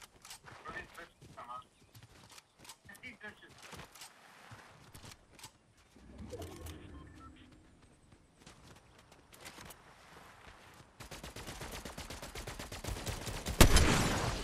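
Sniper rifle shots and other gunfire in Fortnite crack out sporadically, some near and some distant, over footsteps and scattered game noise, and a sharp loud shot comes near the end.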